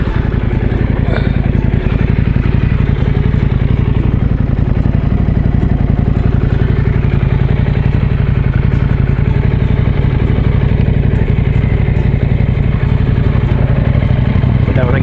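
BMW adventure motorcycle with a 21-inch front wheel ridden on a trail in Sundown National Park: a loud, continuous engine drone with rattling clatter and wind rush, steady the whole way through.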